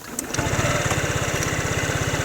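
Small 2025 Honda Metropolitan scooter engine with about 15,000 miles on it starting up, then settling into a steady, close, fairly quiet putter at idle, running on alone without talk.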